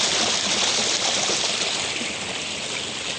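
Irrigation water overflowing from a fishpond, a steady close rushing flow like a small stream, broadband and constant without any voices.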